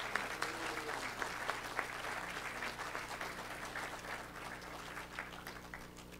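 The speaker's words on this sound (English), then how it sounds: "if you guys can just give them a round of applause for helping" An audience claps steadily for the helpers at a children's Christmas program, a dense even patter of many hands heard from some distance, sustained throughout at a moderate level.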